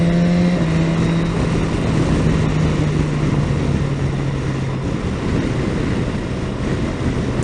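A 2018 BMW S 1000 XR motorcycle engine under way, a steady loud drone with a low engine tone that sags slightly in pitch as the throttle eases, mixed with constant wind rush and no talk.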